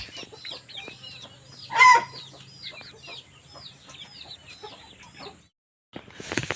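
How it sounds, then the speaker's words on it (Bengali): Aseel roosters and chickens on a farm in West Bengal cluck and chatter in a busy, overlapping stream, with one louder, nearer crow-like call rising briefly in the middle before a short silence. "এই যে সানা মোরগটা খাচ্ছে আপনারা দেখতে পাচ্ছেন।"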